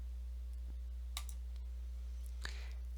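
Computer mouse clicks while inserting a web link in an email editor, two or three faint, isolated sharp clicks over a quiet electrical hum.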